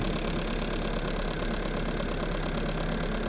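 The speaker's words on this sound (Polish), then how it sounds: "Samochód się teraz przełączył na gaz, słychać cykło." A Honda Civic 1.8 engine just switched over to LPG idles steadily, a close, even hum with a faint ticking running through it, no voices.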